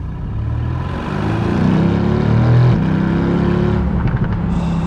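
Mercedes AMG GT R Roadster exhaust note, a deep throaty drone that swells as the engine revs up, peaks, then eases off while the car drives on.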